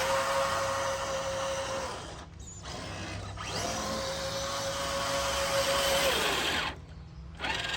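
The high-KV motor of a small combat robot whirs with a loud mechanical whine that rises and falls in pitch as it spins up and cuts out between bursts, close by, with no talking.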